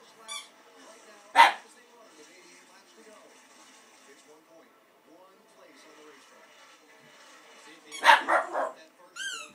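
A dog barks once loudly, then after a quiet stretch with soft voices, lets out a burst of several deep barks close by.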